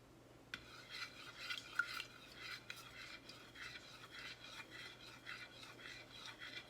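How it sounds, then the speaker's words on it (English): Almond oil for homemade soap stirred in a container, a quiet rhythmic scraping and clinking of a utensil repeating steadily, close but faint, with no talk. "Okay, so I'm stirring the almond oil."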